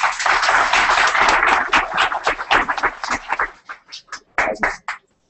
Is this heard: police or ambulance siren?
no